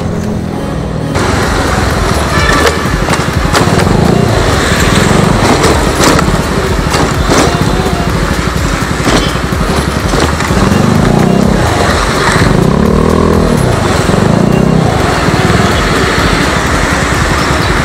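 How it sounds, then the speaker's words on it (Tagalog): A Yamaha Mio Sporty scooter fitted with a loud chicken pipe exhaust drones steadily and close while riding, its engine rasp rising and falling over constant road and wind noise. "naririndi ako sa ingay ng chicken pipe na to"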